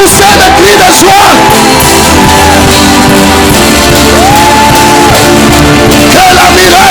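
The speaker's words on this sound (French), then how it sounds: "Est-ce que quelqu'un peut pousser des cris de joie?" Church congregation at a Sunday service shouting and whooping cries of joy, a loud crowd of overlapping yells and voices filling the hall.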